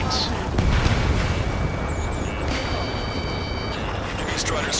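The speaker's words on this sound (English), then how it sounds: "gunfire and the roar of jets echoing through the streets" Gunfire and jet roar fill a city under martial law in the Ace Combat 7 video game, a dense, steady rumble of distant blasts and engine noise with high whining tones running throughout.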